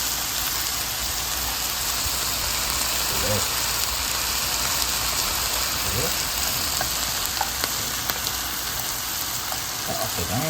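Pork and vegetables pan frying for yakiniku, a dense steady sizzle like rain throughout, with occasional faint clicks of stirring.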